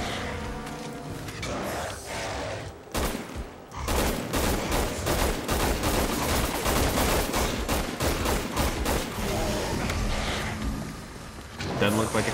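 Gunfire in the game Resident Evil 6, loud rapid volleys of shots hammering in quick succession for several seconds while voices shout over the fighting.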